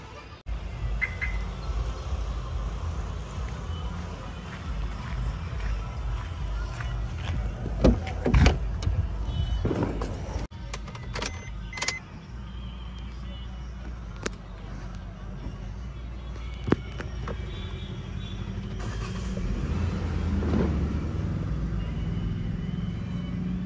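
A car's engine runs steadily as it drives, a low continuous rumble close by with occasional knocks and rattles and a few louder thumps, while people talk intermittently over it.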